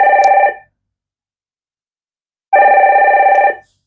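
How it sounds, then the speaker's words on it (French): A telephone bell ringing loudly and close, two trilling bursts of about half a second and a full second separated by two seconds of silence, with no talk over it. "il y a quelqu'un qui appelle peut-être."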